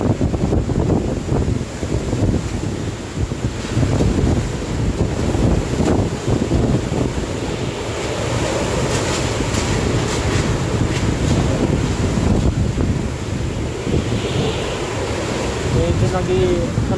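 Gusty typhoon wind from Super Typhoon Goni in Naga City rushes loudly and steadily, buffeting the microphone, with a muffled voice briefly audible beneath the noise.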